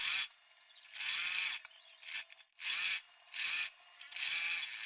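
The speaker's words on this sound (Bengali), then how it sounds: "এক মাথা থেকে সেলাই দিয়ে ঠিক আমি নিচে পর্যন্ত সেলাইটা দিয়ে নিচ্ছি" A sewing machine stitches petticoat fabric in several quick bursts of whirring, each lasting about a second and separated by short pauses, close and clear with no talking.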